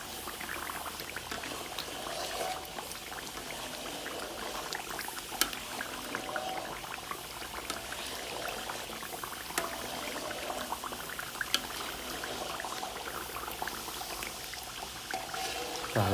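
Coconut oil simmering over a medium flame in its final stage of cooking from grated coconut, a steady fine crackling and bubbling sizzle with occasional sharper pops, continuous and close with no voices.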